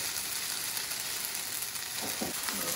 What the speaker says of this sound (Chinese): 这种生萝卜糕比较不好煎的地方，就是它还是会很黏，要慢慢的把它弄开。